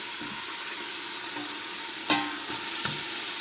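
Sausage goes into a hot pan where lentil soup ingredients have been caramelizing, setting off a steady bright sizzle with a few sharp clinks and scrapes of a utensil against the pan.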